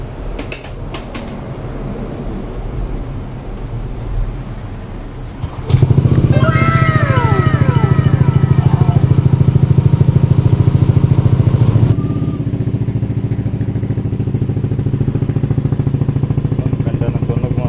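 A Yamaha Aerox V2 155cc scooter with a Yoshimura full exhaust starts up and revs repeatedly, rising and falling loudly up close, then settles to a steady idle.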